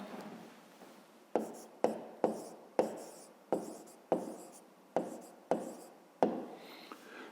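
Pen on paper as an answer is written out by hand for a fifth-grade math exercise, a quiet series of about a dozen short, evenly spaced scratchy strokes, close and soft.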